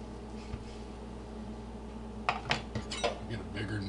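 Knife cutting meat into chunks on a cutting board for pozole, a few clustered taps and scrapes toward the end over a quiet low hum, close and soft.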